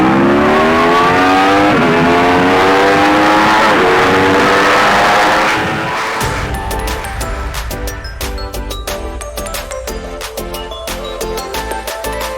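An Aston Martin Valkyrie supercar revs hard on a two-step launch limiter, a loud rising engine wail giving way to rapid stuttering pops and crackles, close and dominant with no talk.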